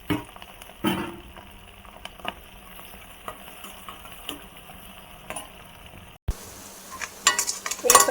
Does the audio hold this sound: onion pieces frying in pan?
yes